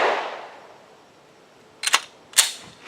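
Pistol shots fired through a Primary Machine Stealth compensator, two sharp cracks close together near the end after a quiet stretch, loud and close.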